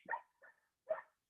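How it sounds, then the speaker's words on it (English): Dogs bark in three short, quiet yaps, two close together and one after a pause, sounding somewhat distant in an otherwise silent room. "sorry about the dogs."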